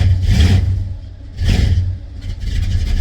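A lumpy 1974 Plymouth Road Runner engine with a 500 cam blipped twice, each rev rising sharply then falling back to a choppy, loping idle, close and loud.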